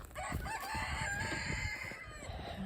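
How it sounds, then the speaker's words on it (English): Chickens cluck and squawk close by outdoors in snowy weather, with a rooster-like crow rising over a busy, continuous stretch of poultry noise. "we got some chickens braving the weather"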